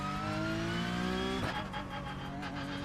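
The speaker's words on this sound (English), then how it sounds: "I'm really liking the sound of this new Porsche Cup" Porsche Cup race car in a racing video game, its engine droning with rising harmonic tones that cut off at a gear change midway, then the note resumes lower with a rougher texture, steady and close with no talk.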